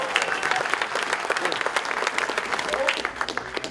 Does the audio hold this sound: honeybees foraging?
no